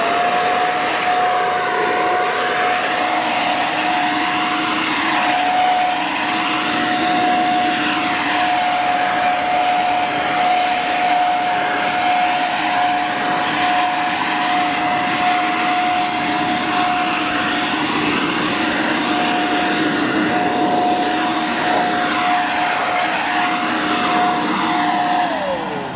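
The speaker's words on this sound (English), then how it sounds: "I'm going to take this blower and I'm going to blow as much of this dust as I can off now" A roof blower clears grinding dust from mortar joints during tuck-pointing, producing a loud, continuous motor roar and rushing air with a steady whine that holds unbroken and up close.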